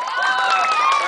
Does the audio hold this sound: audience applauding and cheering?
yes